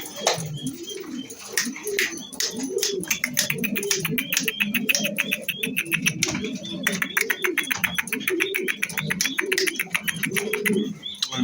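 Pigeons in a loft in Meknes coo continuously in overlapping low, throaty phrases, with bright chirps and rapid clicking or fluttering bursts mixed in, close and busy throughout.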